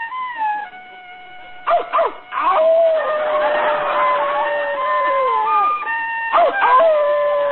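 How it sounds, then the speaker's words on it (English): A dog howls in long, wavering, gliding tones, with a few short yips breaking in between the drawn-out cries. "There's that dog again."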